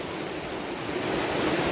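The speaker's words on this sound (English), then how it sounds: "creek doubled in size on me, and it's only February" Rushing water from a creek swollen to double its size by February weather, a steady, loud broadband roar that continues without pause and with no voices.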